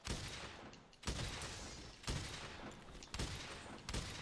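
A heavy bowgun in a Monster Hunter game fires four heavy shots, each about a second apart, every blast followed by a brief rumbling tail, heard alone with no talk.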